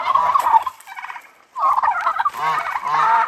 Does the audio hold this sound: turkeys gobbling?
yes